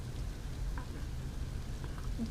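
Steady rain falls without a break, a dense, even hiss of drops with no voices and no distinct thunder.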